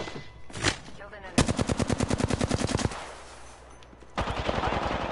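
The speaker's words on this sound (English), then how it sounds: "I'm taking fire, friends." Automatic gunfire in the Apex Legends video game on PS4, a rapid burst of about twenty close, punchy shots in quick rhythm, followed by a quieter stretch and another noisy burst.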